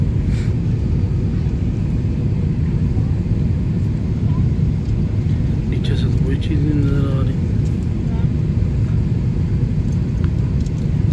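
A steady, loud roaring drone from a four-engine, 72-metre aircraft in flight before landing fills the cabin continuously, while someone talks over it.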